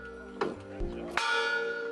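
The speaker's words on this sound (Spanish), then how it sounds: "el tañido de una campana marcaba el momento justo" A church bell tolls at the Lincoln Memorial during a gathering marking fifty years since Martin Luther King's dream speech, with a couple of struck tones and a ringing sustained hum decaying over low background crowd murmur.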